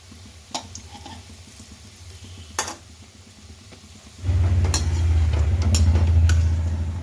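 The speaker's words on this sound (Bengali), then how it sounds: "এইবারে এক এক করে সব বড়াগুলো ভেজে নেব" Lentil fritters (dal bora) fry in a kadai of oil, starting as a quiet bubbling with a couple of sharp clinks, then swelling into a louder, steady sizzle partway through as more batter drops in.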